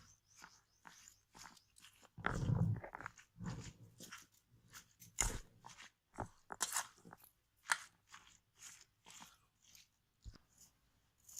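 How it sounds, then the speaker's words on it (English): Salted salsa ingredients are stirred together slowly in a bowl, giving close, wet, crunchy squelches in an uneven rhythm. The mixing is fairly quiet with pauses between strokes and no voices. "Now mix all together very slowly"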